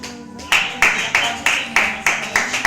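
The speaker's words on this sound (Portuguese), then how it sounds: "Aplaude o Senhor nessa noite" A church congregation clapping in praise in a steady, even rhythm, with about eight sharp claps in under three seconds, close and fairly loud.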